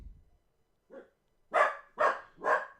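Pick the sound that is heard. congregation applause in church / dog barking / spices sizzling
dog barking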